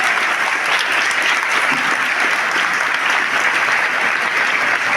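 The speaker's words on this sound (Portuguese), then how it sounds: "Quantos podem aplaudir a Jesus por causa da palavra de Deus?" A church congregation applauds during a sermon, a dense, even wall of clapping that holds at full loudness throughout without any speech.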